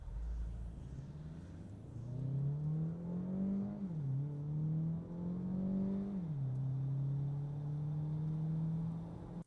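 Peugeot 3008 Plug In Hybrid Allure with a 1.6 turbo engine and eDCS7 gearbox accelerating from 0 to 100 km/h, heard from inside as a steady rising engine drone with two clear gear-change dips.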